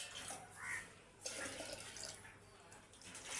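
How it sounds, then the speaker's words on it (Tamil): Water splashes steadily as it is poured for a Pongal celebration at a family home, a continuous close-up pouring with a voice faintly present in the background. "அதே இப்போ தண்ணி ஊற்றுறேன்."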